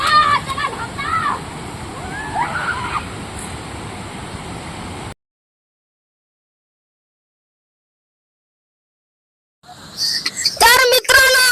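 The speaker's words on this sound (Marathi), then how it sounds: "बघू शकता मागं खतरनाक धबधबा" Water rushes steadily at Murundi waterfall, a broad roar under people talking for the first half. It cuts to silence, then loud nearby voices return.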